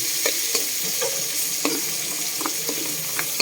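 String beans being sautéed with plenty of pork in a pan, sizzling steadily with a spatula scraping and stirring in short irregular strokes, close and fairly loud with no talking.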